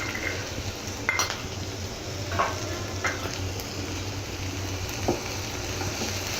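Ginger garlic paste frying in a pan for bambino vermicelli, a steady close sizzle with a few light scrapes and clinks of a utensil against the pan, no voices.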